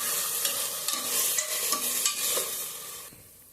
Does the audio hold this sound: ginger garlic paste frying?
yes